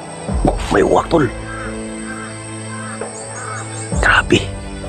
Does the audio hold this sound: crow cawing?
yes